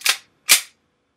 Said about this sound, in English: And this is a very nice gas blowback pistol.